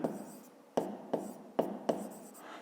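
Pen or pencil writing by hand for a fifth-grade maths exercise, heard as short scratchy strokes in a steady series of four or five quick bursts, close and fairly quiet with no talking.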